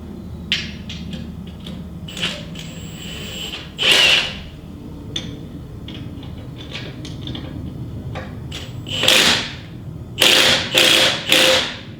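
Bolts on the front sway bar of a Jeep Wrangler JK are tightened with hand tools, giving scattered metallic clicks and short ratcheting bursts, louder clusters toward the end, close with quiet gaps between.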